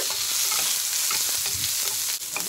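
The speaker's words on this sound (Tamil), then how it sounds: "கடுகு வெடிக்குதுங்க" Mustard seeds crackle and spit in hot oil, a dense bright sizzle with scattered sharp pops, close and steady, no talking.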